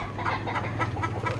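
Chickens at a rural provincial house cluck in quick, repeated bursts, fairly close and loud, over a low steady background hum, with no one talking.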